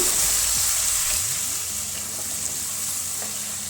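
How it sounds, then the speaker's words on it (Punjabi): Potatoes frying with onions in a pan, a steady close sizzle that runs the whole time, with faint spatula scrapes and stirring underneath. No voices. "ਆਲੂਆਂ ਨੂੰ 5-6 ਮਿੰਟ ਹੋ ਗਏ ਸੀ ਪਿਆਜ਼ਾਂ ਦੇ ਨਾਲ ਭੁੰਨਦੇ ਆ"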